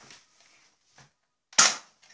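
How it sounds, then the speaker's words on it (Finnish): A Nerf shotgun fires once with a sharp, close snap, preceded by faint handling clicks and followed by a small trailing click in an otherwise quiet room. "Sitten mä ammun sua."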